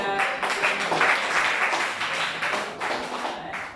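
Classroom applause from students in an Islamic education lesson, a brief burst of scattered hand clapping of moderate loudness filling the room for a few seconds.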